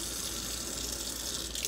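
Lukewarm water runs steadily from a tap into a cup, a continuous soft hiss of flowing water with no voices.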